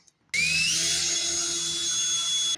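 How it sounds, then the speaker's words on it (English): A power drill bit bores out a stud hole in the bed area of a Chevy Silverado pickup, running as a steady, loud high-pitched whine with a rising tone at spin-up, sustained without talk. "We're going to get a drill bit, and we're going to drill that out."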